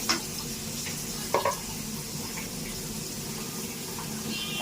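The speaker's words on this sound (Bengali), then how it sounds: "একটু পানি দিয়ে দিলাম কষানোর জন্য।" Turmeric, chili and coriander powder sizzle in a pan after a splash of water is added, a steady close frying hiss broken by a few sharp spatula scrapes against the pan.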